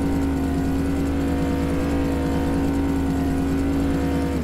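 1992 GMC Sierra one ton truck engine in Farming Simulator 2017 drones loudly and steadily, a close, constant rumble with a fixed pitch that cuts off abruptly at the very end.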